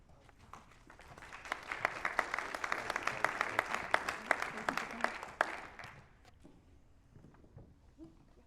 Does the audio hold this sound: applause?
yes